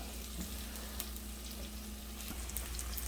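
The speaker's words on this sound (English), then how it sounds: "We want this to cook down until it's basically crispy and cooking on the sides and burning." Short rib paste fries in a pan with a steady close sizzle and light crackling pops, stirred now and then, no voices.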